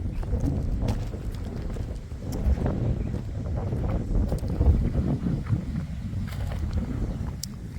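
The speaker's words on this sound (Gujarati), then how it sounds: "પવન ની આજ બહુ બગડાટી બોલાવે" Strong wind roars and buffets the microphone in a constant low, gusty rumble on a farm field at groundnut sowing time, with no one speaking.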